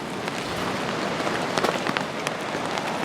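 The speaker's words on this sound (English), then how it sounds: "Rain's coming down good now." Steady rain drums on a taut tarp, a dense even patter with occasional sharper drops, no voices.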